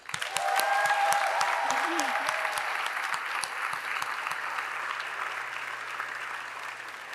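An audience in a tent at a university orientation convocation bursts into sustained applause, loud and dense from the start, tapering slightly over several seconds, with a few faint voices and whoops mixed in.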